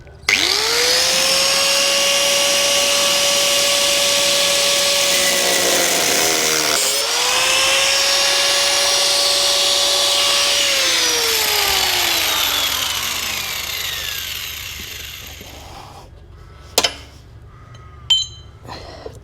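A power tool cuts the pillion handles off a Honda VL250 motorcycle bobber, whining loudly and steadily, dipping in pitch as it bites into the metal, then spinning down to silence, followed by a few sharp clanks.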